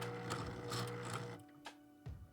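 A sewing machine stitches fabric in a short quick run of mechanical whirring and clatter that stops partway, followed by a couple of faint clicks.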